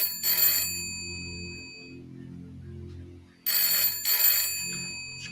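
An old-style telephone bell rings in two loud bursts of rapid jangling, separated by a pause of low background hum, close and clear with no voices over it.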